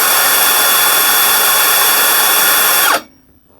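A Bosch GSR 18V-55 cordless drill runs on its low speed setting with a steady, loud whine and hum that holds for about three seconds, then cuts off abruptly into near silence.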